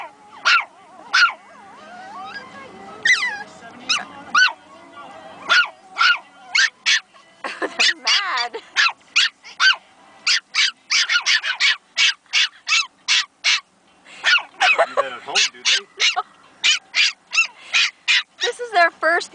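Pomeranian puppies yip and bark in rapid, high-pitched bursts, several overlapping, with whimpers between; the barking grows busier and almost constant toward the end.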